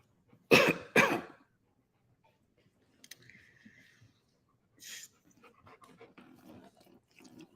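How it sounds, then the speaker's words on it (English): A dog gives two loud, sharp coughs close by, followed by softer panting breaths and faint shuffling over several seconds, with no talk. "They call this dog the Panther for obvious reasons."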